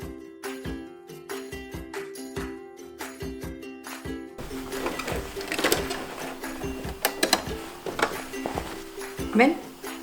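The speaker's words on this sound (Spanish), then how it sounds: "vamos a pasar la costura por aquí" A sewing machine stitches a trouser seam along a pressed fold, first in short rhythmic bursts of needle clatter, then in a longer steady run with small clicks and rustling of fabric, close and clear.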